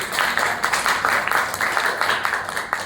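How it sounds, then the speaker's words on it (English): An audience applauds a student's presentation in a classroom, a steady wash of clapping that is loud and sustained for a few seconds. "A clap for Priyanka Samnani."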